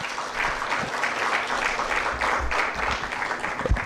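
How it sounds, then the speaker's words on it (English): A room full of people applauding steadily, sustained dense clapping at a moderate distance throughout. "Let's applaud."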